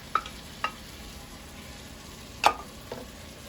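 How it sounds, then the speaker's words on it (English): Grated apple being stirred into sauerkraut and onions in a pan over heat, a few separate scrapes and clinks of the spoon against the pan over a faint steady background, with no talking. "Then you add your grated apple, Okay. and you keep stirring it with that."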